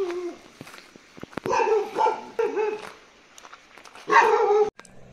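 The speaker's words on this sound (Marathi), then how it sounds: "ह्यो डॉग बघा" A dog in a Konkan village house in Malvan, Sindhudurg gives several short, close barks and yips with low growly whimpers between them, ending in one louder bark burst.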